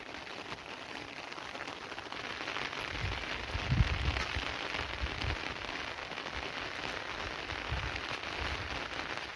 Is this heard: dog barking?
no